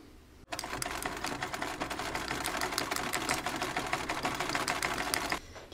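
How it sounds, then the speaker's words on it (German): An overlock sewing machine stitches binding onto the edge of an undershirt top, heard as a close, fast, steady mechanical whirr with rapid ticking that runs for about five seconds and then stops. "nähen ihn mit der Overlock an"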